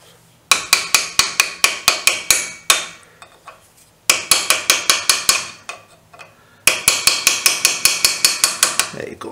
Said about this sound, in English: so I just gave it a quick tap with a punch